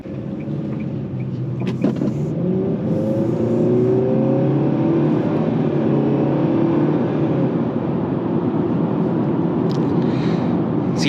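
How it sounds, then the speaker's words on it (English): 2024 Nissan Sentra SV with a CVT accelerating from inside the cabin, a steady loud engine drone with rising tones held throughout, continuous and without talk. "if you hit the accelerator, it takes off pretty good"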